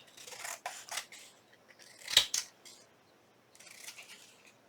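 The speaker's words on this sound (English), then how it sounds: "I'll get my bigger scissors this time. Trim around the edge." Large scissors trimming around the edge of a paper craft piece, producing a few quiet, separate snips with short pauses between them in a calm indoor setting.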